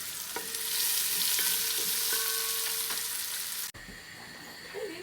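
Onion fries in a pan with a continuous bright sizzle and faint steady hums, then the sound drops abruptly and carries on more quietly with a few soft clinks.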